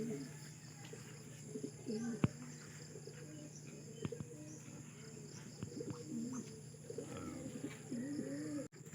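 Racing pigeons coo repeatedly in soft, low, rolling calls at moderate distance, with faint chirps and a steady background hum and a few sharp clicks, no talking.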